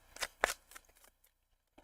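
Tarot cards riffled in a couple of quick shuffling bursts, a soft papery flutter close by and fairly quiet, then a pause and a faint tap at the end.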